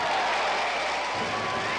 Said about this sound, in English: when the matador enters, there is great cheering like at the baseball game